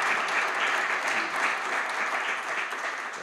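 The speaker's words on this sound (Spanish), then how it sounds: "podéis aplaudirle si queréis" An audience applauds after a flamenco guitar performance at a gathering of flamenco guitarists, a continuous, even patter of many hands at moderate level with no pauses.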